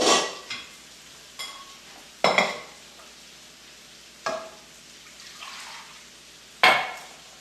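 Ginger chicken frying in a pan with a soft, steady sizzle, broken by several sharp clinks and scrapes of a utensil stirring against the pan.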